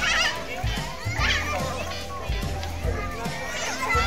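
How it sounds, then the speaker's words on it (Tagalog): Children play a tug of war game outdoors at a dumpsite community, a lively crowd of kids shouting, cheering and chattering continuously, with rhythmic thumps and bursts of excitement throughout. "the kids doing a tug of war game"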